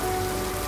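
Heavy monsoon rain pours down steadily near a shop awning where motorcycle travellers shelter, a dense, even hiss of drops on surfaces with no talking.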